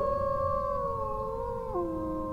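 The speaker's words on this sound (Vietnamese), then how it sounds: "Ê, tiếng sói hú hay gì á." A wolf howls in the video game ARK, a clear, drawn-out tonal cry that glides and drops in pitch near the end. It stands alone over a quiet, low background.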